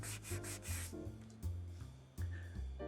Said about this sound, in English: take a soft cotton cloth and gently rub the area